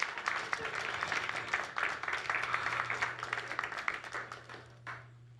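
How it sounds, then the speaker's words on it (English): Audience applause at a magic show in a small NYC venue, a dense steady clapping that fades toward the end, with a low hum underneath. "Round of applause, please!"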